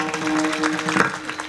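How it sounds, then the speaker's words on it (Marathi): Audience clapping steadily along at a Marathi kirtan, a dense continuous patter of many hands over sustained musical drone tones, fairly loud and unbroken throughout. "जोरात वाजवायचा टाळ्या सर्वजण।"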